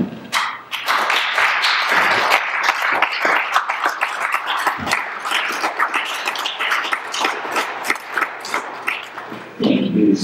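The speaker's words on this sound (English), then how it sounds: "So I invite the rest of my colleagues here in the Senate to give me a round of applause." A round of applause fills a Senate chamber as lawmakers clap, a dense patter of hand claps that swells and thins before fading out.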